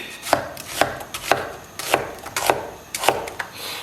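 An onion is chopped finely with a knife on a cutting board: crisp, close, rapid strikes in an uneven rhythm, roughly a dozen cuts in quick succession, with no voice over them.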